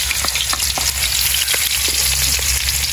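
Garlic frying in cooking oil outdoors beside a stream, a dense, continuous close sizzle with a few light utensil taps, no voices.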